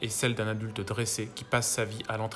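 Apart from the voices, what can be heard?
None of the usual background noises is heard.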